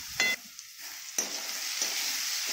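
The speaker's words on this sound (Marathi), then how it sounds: "ही हिरवी मिरची बारीक केलेली आहे ना, ती टाकून घ्यायची।" Chopped green chillies hit a pan during tempering for Marathi moong dal varan, giving a couple of sharp sizzling bursts over a steady, close frying hiss.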